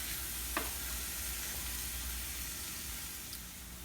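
Plantain dish cooking in a pan, giving a steady, continuous sizzle and frying hiss at close range, with a faint clink partway through and no talking.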